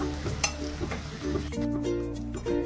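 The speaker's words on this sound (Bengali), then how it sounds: "এবার দেখো আমি এই তেলের মধ্যে দুটো তেজপাতা দিয়ে দিলাম আর দিয়ে দিচ্ছি গরম মশলা।" Bay leaves and garam masala of cardamom, cinnamon and cloves hitting hot oil, a close crackling sizzle with clinks of stirring that thickens into a steady fry partway through.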